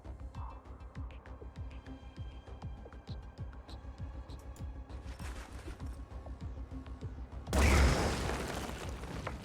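A grenade in the video game Phoenix Point goes off with a sudden loud explosion near the end, after a stretch of quiet rhythmic mechanical ticking, then a lingering rumble fades out.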